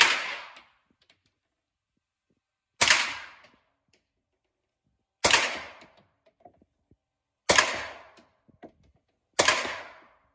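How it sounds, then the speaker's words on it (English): Five loud, sharp gunshots from a Beretta 9mm rifle at an outdoor range in Kosovo, fired singly at irregular intervals of about two seconds, each followed by a brief decaying echo. "Now we're going to shoot with the Beretta 9mm rifle."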